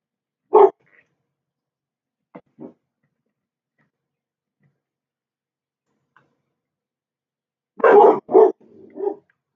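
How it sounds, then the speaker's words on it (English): A dog named King barks indoors in a few short, loud bursts, one early and a cluster near the end, with faint knocks between them and long quiet gaps. "Sorry about the dogs."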